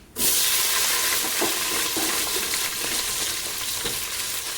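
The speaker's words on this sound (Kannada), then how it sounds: "ಇವಾಗ ನಾನು ಈರುಳ್ಳಿ ಹಾಕ್ತೀನಿ" Onions are frying in a hot pan for a vegetable stir-fry: a loud, continuous sizzle and hiss that starts abruptly once they go in and holds steady, with a few faint clinks of stirring underneath.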